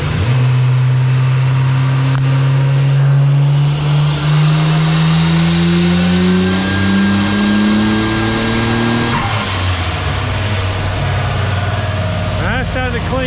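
Nissan R33 GTR engine running on a dyno, loud and close, pitch climbing steadily as it revs up, then dropping back to a lower drone with brief clatter near the end.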